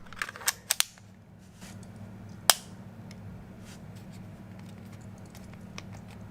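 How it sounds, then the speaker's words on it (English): A Ruger Max-9 micro 9mm pistol is reassembled, giving a quick burst of three or four sharp metallic clicks near the start and another crisp click a couple of seconds later, then only a faint steady hum. "I think I broke this gun by reassembling it, but I'm not sure how."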